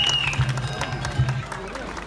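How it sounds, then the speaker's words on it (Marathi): Audience clapping fills a dance competition prize ceremony as the group dance second prize is announced, a steady dense patter of many hands with a couple of louder swells, under a voice over a loudspeaker. "टाळ्या वाजवायच्या सर्वांनी."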